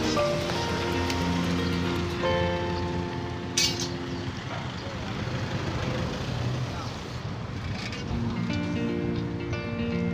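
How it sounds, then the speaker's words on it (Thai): Rain falls steadily on a rainy-season market in Sukhirin, Narathiwat, where vendors are putting up tents; a continuous wet hiss fills the scene, mixed with nearby voices and some tonal background sound. "ฝนฝนเริ่มลงแล้วครับเนี่ย"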